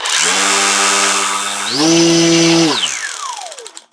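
The electric motor of an XK A600 DHC-2 Beaver RC plane whines up under throttle, holds a steady tone, steps up in pitch, then spins down and fades, loud and close.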